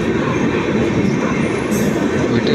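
A train pulls into Jalgaon railway station, a loud, steady rumble of rolling wagons with a metallic wheel squeal rising near the end, continuous and close with no voices.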